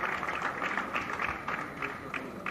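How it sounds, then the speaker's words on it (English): A large audience at a conference closing ceremony in a Bengaluru exhibition hall applauds, a dense, steady wash of clapping heard at a distance in a reverberant space, with crowd noise mixed in. "Please give them a big round of applause, ladies and gentlemen."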